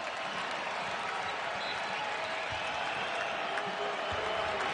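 A Fighting Illini basketball crowd at the United Center applauds after a defensive possession, with steady clapping and some cheering, sustained and fairly distant, under faint crowd noise.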